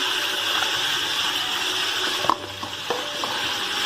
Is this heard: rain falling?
no